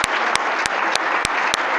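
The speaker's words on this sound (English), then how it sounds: "Let's give them a round of applause." An audience gives a band and choir a round of applause, a dense continuous clapping with loud, sharp claps standing out close by at regular intervals.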